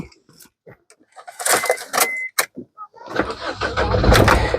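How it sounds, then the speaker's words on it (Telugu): A 2015 Maruti Suzuki Ciaz VDI diesel car starts on a single crank, with a brief starter whir, then the engine catching into a loud, close, steady diesel idle, after someone speaks over clicks inside the cabin. "సింగిల్ సెల్ఫ్ లో కార్ స్టార్ట్ అవుతుంది ఎటువంటి స్టార్టింగ్ ట్రబుల్ అయితే లేదు డీజిల్ కార్ అండి"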